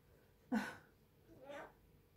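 A house cat meows twice nearby. The first call is sharp and louder, and after a short pause a softer, drawn-out second meow follows.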